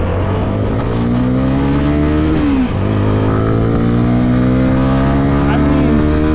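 A CFMOTO 300 motorcycle under way gives a loud, close engine drone that climbs in pitch, dips briefly at a gear change, then pulls upward again over constant road and wind noise.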